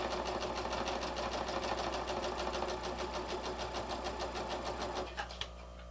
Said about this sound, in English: start pressing your foot pedal slowly. The harder you press, the faster your machine will be.